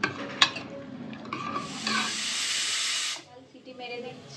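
A pressure cooker on the stove lets out a loud, sustained hissing whistle of steam for about a second and a half, then drops back to quieter kitchen noise.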